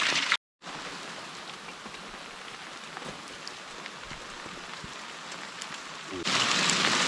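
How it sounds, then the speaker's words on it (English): Hail and rain pour down steadily on farmland, a dense continuous hiss with scattered sharper ice pattering, close and loud, briefly cut off near the start and swelling louder at the end, with no talk. "Like the hail's getting bigger and bigger. But there's also rain."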